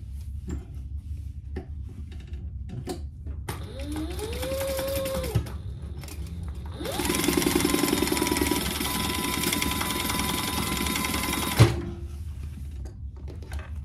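A sewing machine stitches a bag in two bursts, a short whirring run and then a longer, louder steady run that stops abruptly, with quiet gaps and no talk between.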